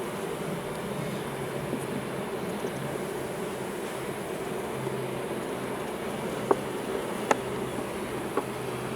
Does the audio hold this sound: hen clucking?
no